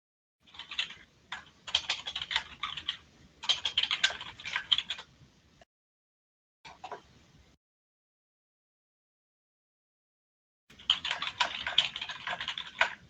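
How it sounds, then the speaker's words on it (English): Fingers type on a computer keyboard in quick bursts of close, crisp key clicks, broken by pauses and a long silence before a final flurry. "hear me typing right now, can't you?"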